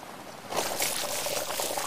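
A short stream of water pours steadily after a brief quiet moment, splashing softly for over a second.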